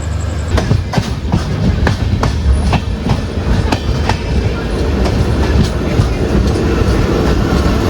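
Mangaluru to Mumbai express train pulling out of a station, steady loud rumble with repeated clickety-clack of wheels over rail joints throughout, no voices.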